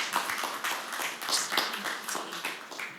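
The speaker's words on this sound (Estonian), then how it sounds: "Aitäh, plaksutame ka neile." An audience at a formal introductory session claps together, a dense continuous applause of many hands that holds steady for about three seconds with no talking over it.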